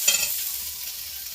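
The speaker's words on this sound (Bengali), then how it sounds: "2 থেকে 3 মিনিটের মতো ভালো করে কষে নেব।" Turmeric and chili powder fry in hot oil for a Bengali koi fish curry, a bright steady sizzle that opens with a stirring scrape and then settles into an even hiss.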